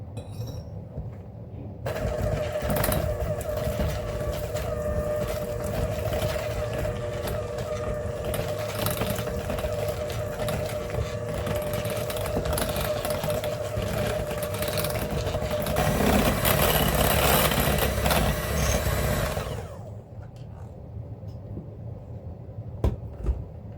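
An electric hand mixer whirs steadily through muffin batter with added vanilla, loud and close for about eighteen seconds, then stops, leaving quiet kitchen sounds.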